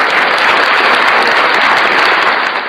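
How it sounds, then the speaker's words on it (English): Dense, steady audience applause fills the space at an evening gathering in the yard, a broad unbroken wash of many hands clapping at a constant loud level throughout. "I want to give you some applause right now for all of your accomplishments"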